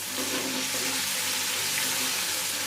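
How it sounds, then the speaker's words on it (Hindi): Crushed garlic, green chili and ginger masala frying for Karachi-style aloo chicken biryani, a dense, continuous close sizzle with no voices over it. "1 आधा मिनट के लिए इसे भी फ्राई करेंगे।"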